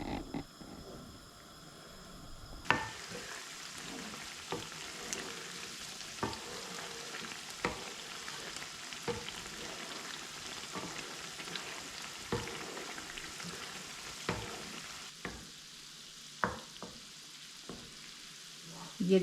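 Butter simmers gently into desi ghee, a continuous low bubbling sizzle with frequent small pops and occasional utensil taps, steady and unhurried.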